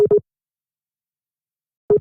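Busy signal on a telephone line after a call cuts off: short pulsed tones, two quick beeps at the start, then silence, then another pair at the end, clear and close.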